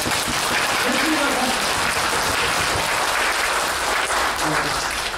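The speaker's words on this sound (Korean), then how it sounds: "협회 회장님께 다시 한번 박수 부탁드립니다." An audience at a Korean talk on seniors and wealth creation gives loud, steady applause that fills the whole stretch without a break.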